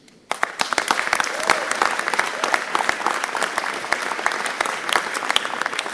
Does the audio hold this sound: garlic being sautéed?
no